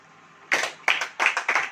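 Hands clapping in a church congregation during a Hindi sermon, a few distinct bursts of claps with short gaps between them, fairly close.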